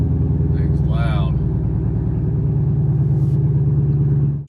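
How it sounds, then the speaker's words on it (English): Inside the cabin of a car fitted with an AWE Track Edition axle-back exhaust, windows up, the engine drones loud and steady throughout with a deep pulsing rumble, while a voice briefly speaks over it near the start. "Thing's loud."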